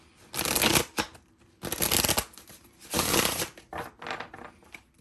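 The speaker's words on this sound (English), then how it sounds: "Maybe I'll just shuffle it 400 times tonight." A Phantom Wise tarot card deck is riffled and shuffled by hand, several bursts of crisp papery flutter close up with short pauses between, fairly quiet and with no voices.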